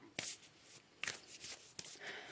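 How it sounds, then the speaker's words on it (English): Tarot cards shuffled and drawn from a deck, soft close papery flicks and slides in three quick bursts, quiet and alone. "Let's go ahead and pull some more cards."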